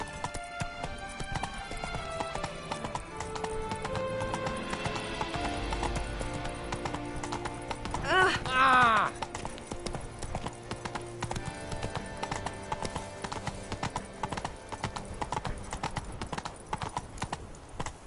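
Roach, the horse in The Witcher 3, gallops with a quick, rolling clip-clop of hooves that runs throughout, and a loud neigh bursts out partway through.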